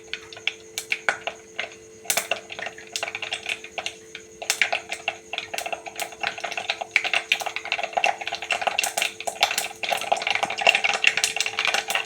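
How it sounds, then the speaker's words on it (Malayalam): Mustard seeds popping in hot oil in a pan after frying ginger for Kerala puli inji: dense, irregular sharp crackles and pops, close and fairly loud, building in intensity toward the end. "കടുക് നന്നായി പൊട്ടിയിടുമ്പോൾ വറ്റൽ മുളക് ഇടുക"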